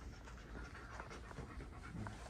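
A dog panting steadily in quick, breathy rhythmic huffs, close and fairly faint throughout.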